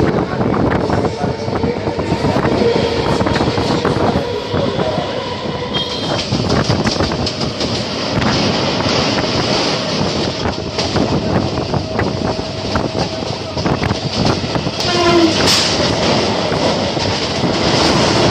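A Krishnanagar City galloping local train runs from Sealdah towards Badkulla, with loud steady rumble of wheels on rails, rhythmic clatter and occasional squeal, heard from inside the carriage for the whole stretch.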